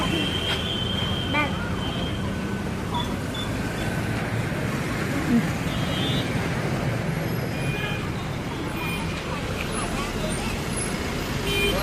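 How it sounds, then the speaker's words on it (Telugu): A bus drawing near through busy road traffic, its engine rumble rising out of a steady wash of vehicle noise, with people talking over it. "బస్సు వస్తుంది"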